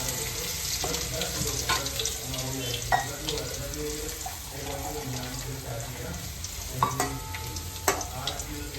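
Chopped garlic stirred and frying in plenty of hot oil in a home kitchen pan. A steady, dense sizzle runs throughout, broken by a few sharper clinks and scrapes from the stirring.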